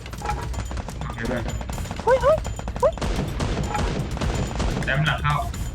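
Rapid bursts of automatic gunfire in the shooter game Free Fire rattle on and off throughout, with excited talk over the shooting.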